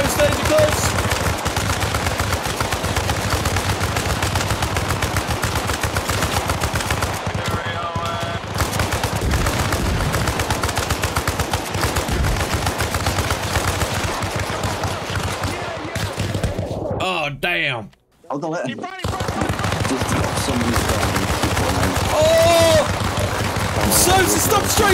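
An M60 machine gun fires in Arma Reforger combat, with dense rapid bursts close by running almost nonstop alongside other gunfire and excited voices talking over it, broken by one short pause.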